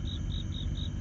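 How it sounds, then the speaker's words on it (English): Crickets chirp steadily outside an open studio window, a repeating high trill in even pulses over a constant low background hum. "I opened up my windows here to the studio, and I thought the crickets in the background would give a"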